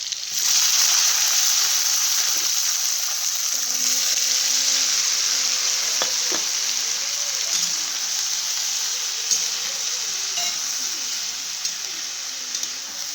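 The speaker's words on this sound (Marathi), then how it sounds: "आता टाकून घेते गवारची शेंग." Cluster beans (guar) go into hot oil tempered with mustard seeds, cumin and garlic, producing a steady, close frying hiss that carries on evenly throughout.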